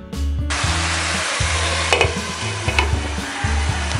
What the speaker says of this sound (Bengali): একটু ভালো করে ভাজা ভাজা করে নিচ্ছি।